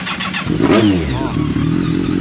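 A 2007 BMW K1200S shaft-drive motorcycle cranks briefly on its starter, then catches and settles into a loud, steady idle close by, with no voices.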